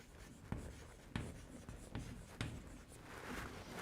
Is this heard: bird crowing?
no